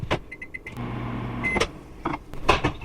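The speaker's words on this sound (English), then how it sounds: "we're going to need to microwave this for about a minute" A quiet microwave oven hums steadily, with a few faint beeps and clicks and some soft handling noises around it.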